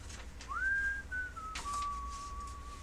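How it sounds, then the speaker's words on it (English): A single clear whistled tone rising to a held note, then dropping and sustaining a steady lower pitch for over a second, close and alone with a faint room hum beneath. "I can't whistle like that either."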